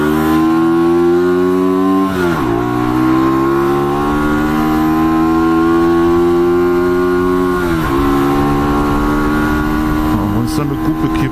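A Hyosung Aquila 125 motorcycle engine revs hard and loud up close, with steady climbing harmonics, brief dips near two and eight seconds as the revs fall and rise again, and a sustained high-revving drone throughout.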